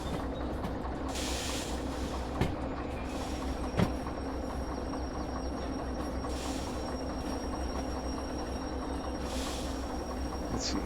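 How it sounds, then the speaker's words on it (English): A train rolls along the rails in a railway simulator game, a continuous low rumble and hum with two sharp clanks from the wheels, heard alone without talk. "so we're going to have to take this train"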